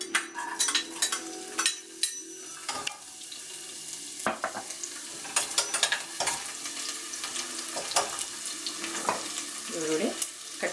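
Onions and beetroot fry in hot oil inside a pressure cooker, giving a busy sizzle with frequent clinks and scrapes from a stirring spoon against the metal. No one speaks.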